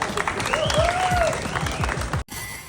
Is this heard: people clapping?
yes